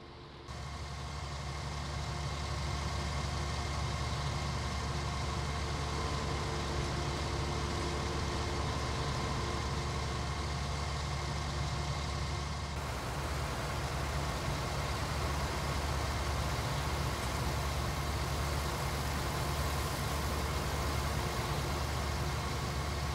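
A tractor engine in Farming Simulator 19 drones steadily throughout, a continuous mid-pitched idle-like hum with no speech.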